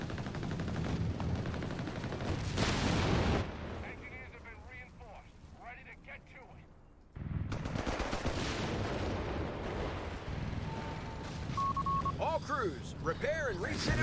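Pak 40 anti-tank gun firing in Company of Heroes 3 against an EZ-8 tank, heavy cannon blasts and battle din in dense bursts, a quieter lull mid-way, then the barrage resuming loudly under commentary.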